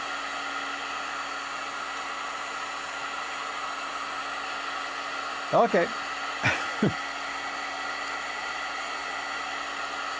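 A heat gun blows with a steady, even whoosh through a puppet building shop, continuous throughout, with a brief spoken word and a couple of short voice bursts over it midway.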